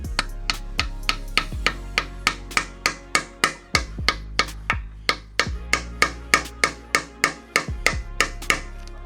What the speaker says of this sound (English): So I'm gonna tap my flathead into here and then go to the other side and do the same thing.